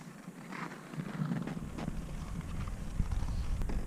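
Horses' hooves crunch and thud softly in snow as stallions move about in a Yakutian winter, with light wind noise around them.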